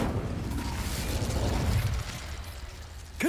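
A fiery spell blast in Hogwarts Legacy: a loud, roaring whoosh of flame with crackling bursts that swells for about two seconds, then eases into a lower rumble before a sharp closing pop.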